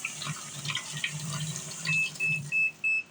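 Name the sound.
Magic Chef portable washing machine filling with hot water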